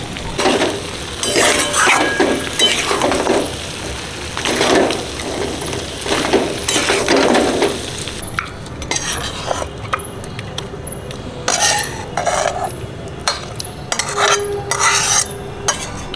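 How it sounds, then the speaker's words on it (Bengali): Mutton being stirred in a wok with ground coriander, cumin and black pepper, heard as repeated rough scraping strokes for several seconds, followed by lighter metallic clinks and taps of a utensil against the pan. "মাংস কষে নিয়েছি ভালো করে এর গুঁড়ো মশলাগুলো দিয়ে দেবো ধনিয়া জিরে গোলমরিচ"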